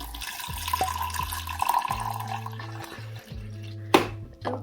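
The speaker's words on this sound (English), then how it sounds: "You just pour water in here and then coffee goes here" Water is poured into the reservoir of a drip coffee machine at home, a splashing trickle with light clinks over soft tonal background sounds, ending with a sharp knock.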